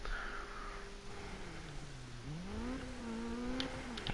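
A car engine in Need for Speed 2015 revs and climbs in pitch, with a steady tone rising sharply partway through, heard up close with no talk.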